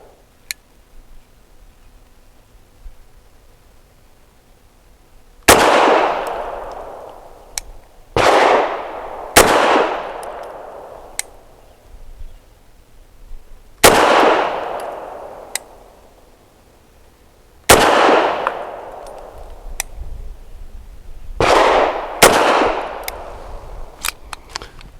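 Sharp, loud reports from a Bersa TPR .380 pistol, about eight shots spaced several seconds apart with a couple in quicker pairs, each cracking and ringing out over a quiet background.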